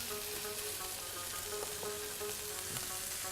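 Curry sauce sizzles and spits steadily in a pan as it is stirred, a continuous bright frying hiss with faint scrapes of the spoon now and then.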